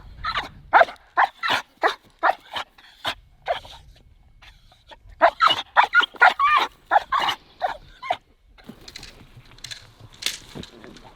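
A military working dog barks in loud, rapid volleys during bite training with a protective sleeve, close by, with two bursts of barking separated by a short pause and a fainter whine near the end.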